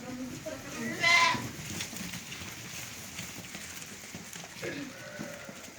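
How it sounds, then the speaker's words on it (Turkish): A big lamb on a livestock farm lets out one short, near bleat early on, with quieter farmyard noise and a faint second call after it. "Şu koca kuzu var."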